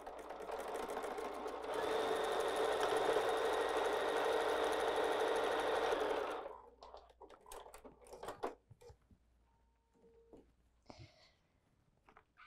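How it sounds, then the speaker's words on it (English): A sewing machine runs steadily for about six seconds, stitching quilt pieces together for a Lucky Charms wall hanging. It is close and even-paced, then stops, leaving faint handling clicks and rustles. "Let's sew that together and see if we hit that spot just as we wanted"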